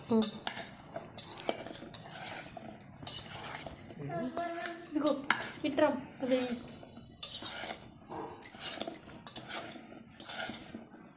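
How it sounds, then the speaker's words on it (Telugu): A spoon clinks and scrapes repeatedly against a bowl as a thick raw mango pickle mixture of finely chopped mango, chilli powder, salt, mustard powder and oil is stirred up close, with a brief voice partway through. "మిక్సీ పట్టి ఆ కారం, ఉప్పు, ఆవపిండి సన్న ముక్కల్లో మొత్తం పోసి నూనె పోసి కలుపుకోవాలి"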